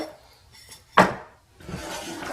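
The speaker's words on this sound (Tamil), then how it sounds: "கைவிடாம நீங்க கிண்டுங்க" Mysore pak mixture being stirred in a pan, giving a sharp scrape of utensil against metal near the one-second mark, then a steady soft rubbing and scraping that continues to the end.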